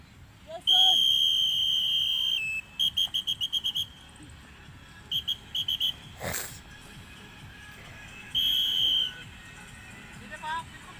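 A coach's whistle at a commando-style physical exercise drill: one long shrill blast, then several runs of short, rapid, evenly spaced toots. The whistle sounds close and loud over faint background chatter.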